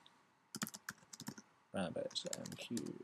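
Close, quiet typing on a computer keyboard while a command is entered at a terminal: a scattered run of keystrokes followed by a faster, denser burst of clicks.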